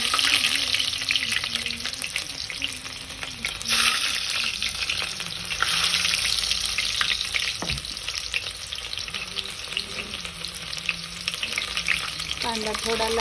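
Onion sizzles and fries steadily in hot oil with cumin seeds and mustard seeds for khichadi, with occasional stirring scrapes and brief clinks over a continuous hiss.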